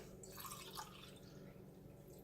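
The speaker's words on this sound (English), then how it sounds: "I'm also going to pour it into the can." Broth trickles and splashes into a can, a soft close pour that fades after a moment, over quiet kitchen background noise.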